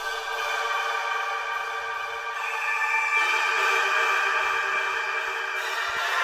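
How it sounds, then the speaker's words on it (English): A sustained, airy choir sample pitched up to a raised, thin pitch, washed in heavy reverb so the voices blur into a spacious, shimmering drone, for a type beat. "It's this choir sound, but I pitched it up and I added a lot of reverb,"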